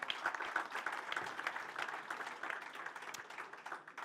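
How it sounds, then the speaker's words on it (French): An audience at an exhibition event gives dense, moderately distant applause, many hands clapping steadily and then tapering slightly toward the end. "vous pouvez l'applaudir doublement."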